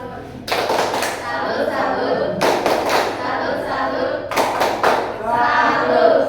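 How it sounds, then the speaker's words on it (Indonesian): A classroom of children clapping in rhythm with a clapping chant, bursts of loud, close claps and group voices chanting together, separated by short pauses. "kalian menyanyi dengan tepuk tangan"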